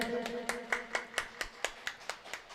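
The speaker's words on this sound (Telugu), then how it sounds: "బర్త్డే బాయ్ అందరూ ఒకసారి గట్టిగా చప్పట్లు కొట్టండి." A birthday audience claps in a steady rhythm of about a dozen sharp, even beats, fairly close and moderately loud, with faint background murmur and no speech over the claps.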